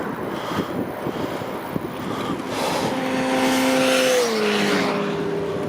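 A BMW car passes on a flat road in the Salzburg area, rising from wind rush into a louder engine drone with a falling tone as it goes by.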